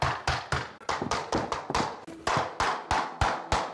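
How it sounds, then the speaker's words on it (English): Vinyl plank flooring joints being tapped down, about fourteen sharp, close knocks in a quick steady rhythm with a brief pause midway, and no talk over them. "Now I'm committed to pounding the joint down."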